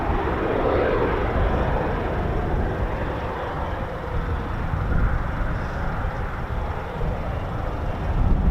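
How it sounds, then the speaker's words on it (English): Steady jet engine roar from Eurofighter Typhoon FGR4 fighters taxiing at RAF Coningsby, a continuous broadband rumble at moderate distance with no break through the whole stretch. "Should start to get a few Typhoons now taxiing."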